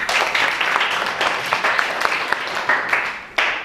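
Pupils in a classroom give a short burst of applause for a classmate during a reading lesson, scattered claps close by that fade toward the end before a final clap.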